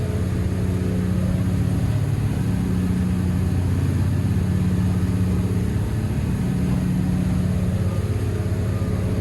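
A Cranchi M44 HT motor yacht runs at full throttle around 3,600 RPM and 32 knots into the wind, its engines giving a loud, steady, unbroken drone with rushing wind and water.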